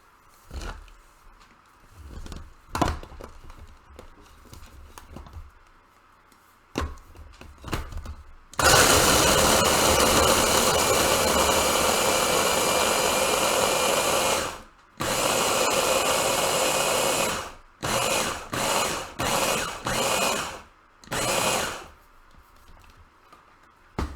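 Ninja food processor grinding pie crumbs and light brown sugar into a wet-sand texture, a loud whirring roar running for several seconds, then a string of short pulsed bursts with brief gaps.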